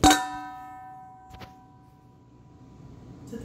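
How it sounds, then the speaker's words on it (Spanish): A phone drops onto a hard kitchen surface with one sharp ringing clang that hums away slowly, followed by a fainter knock about a second later, while making a keto cheesecake. "se me andaba cayendo mi teléfono, como ven"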